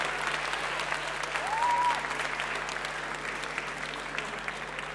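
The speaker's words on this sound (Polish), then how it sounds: "wielkie brawa dla wszystkich widzów" An audience at a young talent showcase applauds, a full, even wash of clapping from many hands over a steady low hum, with a brief whistle rising out of it near the start.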